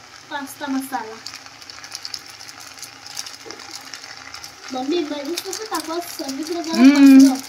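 A spoon stirs pasta with pasta masala in a pan, giving light scraping clicks and faint sizzle beneath lively home chatter from two voices.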